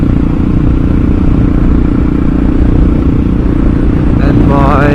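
A vehicle engine drones loud and steady while cruising on an open road, a dense low rumble with wind noise throughout, and a voice begins speaking over it at the very end.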